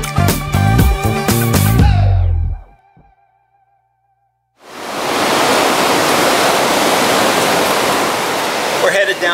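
Ocean waves at the shore produce a broad, steady roar of surf that rises in after a brief silence and continues loud and even, following an earlier burst of music.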